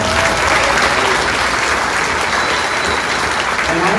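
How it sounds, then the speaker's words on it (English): An audience at a fiftieth class reunion program gives loud, sustained applause, a dense wash of many hands clapping that carries on evenly from start to finish. "So I want to give a round of applause just for those two."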